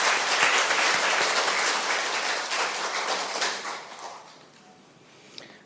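An audience at an academic spirituality symposium applauds to welcome two speakers, a loud, dense burst of clapping that gradually thins and fades out over several seconds.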